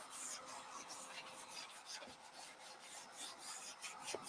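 Sandpaper of 220 grit rubbing over painted furniture, a steady close-up rasping scrape with repeated back-and-forth strokes throughout.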